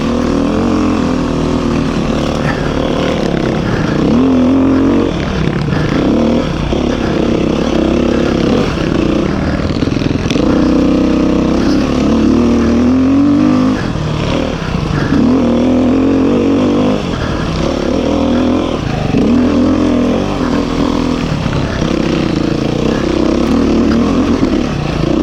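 A 2021 Beta 390 RR dirt bike engine works hard on a steep trail ride, loud and close, with continuous revving that rises and falls as the throttle opens and closes.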